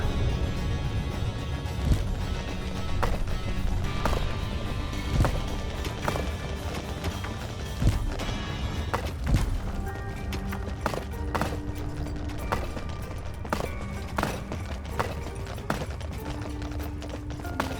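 Many footsteps approaching in Dungeons 4, a dense, steady clatter of small rapid steps with thumps and knocks over a busy game soundscape, continuous and fairly loud throughout.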